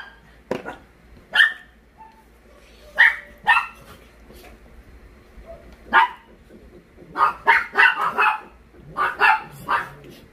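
A dog barks repeatedly at irregular intervals, sometimes in quick clusters of two or three, at moderate distance against a quiet background.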